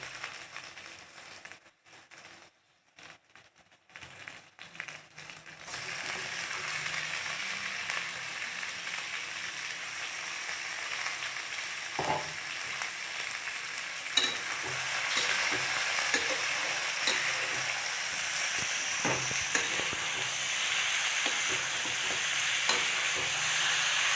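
Chicken dropped into masala in a pan, quiet rustling at first, then a sustained loud sizzle with occasional spatula scrapes and clacks as it is stirred and fried.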